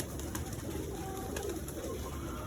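Pigeons coo softly amid a steady low rumble and rustling, with occasional brief higher calls; no one speaks.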